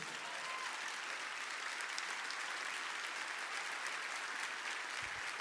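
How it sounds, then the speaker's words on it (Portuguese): A church congregation applauds in steady, dense clapping that fills the space evenly for several seconds at a moderate, slightly distant level, with no voices standing out. "Vamos aplaudir o Senhor, igreja."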